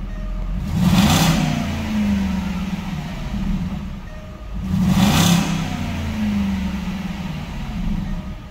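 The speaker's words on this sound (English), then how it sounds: "Give it a couple revs here." A 2010 Jaguar XK Portfolio Coupe with a stock exhaust, engine still a little cold, blips twice, each rev rising quickly then settling back to a low, steady idle rumble.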